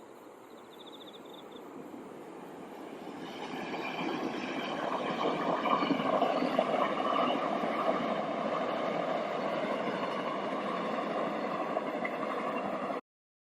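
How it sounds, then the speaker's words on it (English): A train running in a Sonic video game, a steady continuous rumble with a high chirping, cricket-like layer, swelling after the first few seconds and holding level until it cuts off abruptly. "The train to Soliana should be leaving soon."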